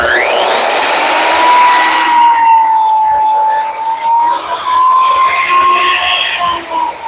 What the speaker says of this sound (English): Let's go down another step here on the plunge router.